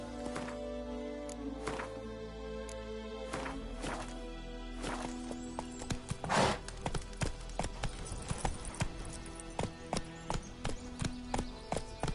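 Horse hooves clip-clop in a steady, quickening rhythm as the mount Roach moves through the game world of The Witcher 3, with faint music and ambient tones underneath and a brief louder burst midway.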